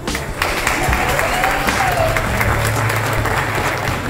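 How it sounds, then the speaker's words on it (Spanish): Strong applause from an audience at a Dominican school awards ceremony, a dense steady wash of clapping lasting throughout, with a faint voice or whistle briefly rising within it. "Vamos con un fuerte aplauso"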